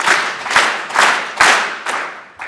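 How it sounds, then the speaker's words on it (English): An audience at a youth sports volunteer recognition event claps in unison five times, each clap a loud, close crowd burst with a brief pause before the next, and a sixth partial burst trailing at the end. "I'd just like everyone to clap 5 times"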